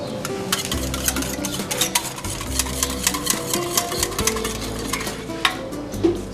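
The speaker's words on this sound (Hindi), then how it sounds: "इसको अच्छे से मिक्स कर लेंगे।" A spoon stirs and scrapes through sweet pineapple raita in a bowl, with steady close clinks and soft wet mixing in a quiet kitchen and no talk.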